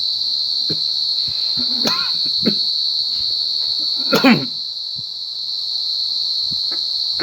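Field crickets at night at a Buddhist temple in Chae Hom, Thailand, make a steady, high-pitched chirring throughout, with a few soft clicks and brief rustles near the front.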